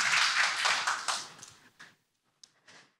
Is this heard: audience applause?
yes